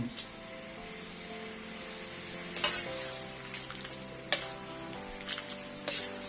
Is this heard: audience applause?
no